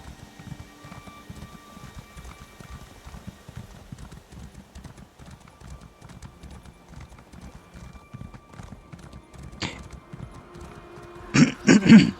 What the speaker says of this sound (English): We're just gonna get back on the horse.